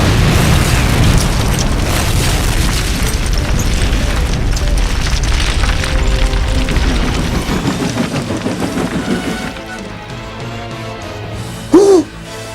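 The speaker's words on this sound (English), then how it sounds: "the dynamite explosion had caused a massive rock slide to the cave entrance" A dynamite blast sets off a massive rock slide at a cave entrance in an animated children's railway story, a long loud rumbling roar that slowly rolls off into quieter debris, ending with a short sharp burst.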